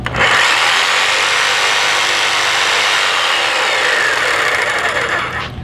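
Jigsaw cutting a wooden board for a Viking chair, a loud, close, continuous buzzing rasp that holds steady for several seconds before tapering off at the end, with no talk over it.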